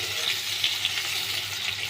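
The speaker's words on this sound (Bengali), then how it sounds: "পেঁয়াজগুলো দিয়ে দিলাম। পেঁয়াজগুলো কিন্তু একটু লাল লাল করে একটু ভাজতে হবে।" Chopped onions fry in oil, a dense, close, continuous sizzle with faint bubbling and a low background hum, no speech.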